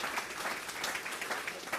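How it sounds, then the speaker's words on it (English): An audience applauding a panel at an urban mobility summit, a brief burst of dense, steady clapping from many people heard fairly close, with no speech. "Round of applause, please,"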